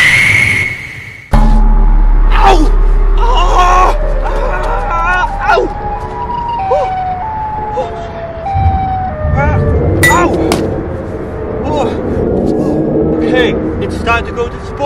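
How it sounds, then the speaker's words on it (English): Wailing siren tones from a Siren Head character in a horror video game, rising and falling pitches layered over background game music and effects, with a voice talking throughout. "Sirens."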